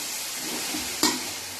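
Chicken sausage masala stirred in a hot pan: a steady hiss of sizzling oil runs throughout, with a spoon scraping through the mixture and one brief louder clink near the middle.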